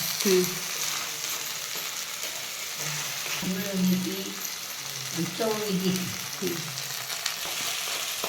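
Onion and coconut masala fries in oil with a continuous sizzle, while a spatula scrapes and stirs the thick paste in bursts; a faint hum sits underneath.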